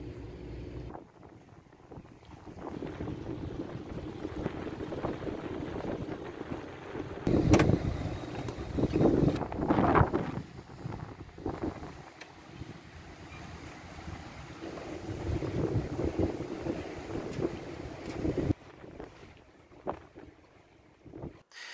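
A boat motors up the Intracoastal Waterway near Fort Lauderdale, its steady engine drone mixed with wind buffeting the microphone, swelling louder in the middle and easing toward the end.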